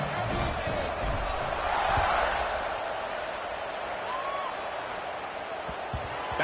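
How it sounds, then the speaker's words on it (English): Stadium crowd at a college football game, KML versus WVU, buzzing after a score: a broad, steady roar of many voices holding at moderate loudness throughout, with a slight swell partway through. "this crowd is buzzing after that last score"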